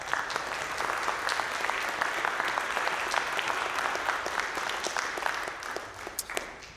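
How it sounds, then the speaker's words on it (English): A church congregation applauds during a morning service, the many-handed clapping steady and moderately distant before thinning out toward the end. "please allow me to just give a round of applause for him"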